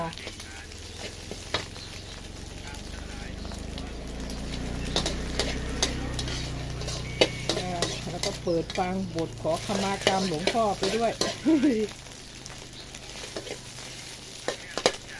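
Beaten eggs stir-fried in a hot wok for a simple hill-village dish of stir-fried cicadas: continuous sizzling with scraping and clinking of the spatula, while someone talks briefly over the cooking.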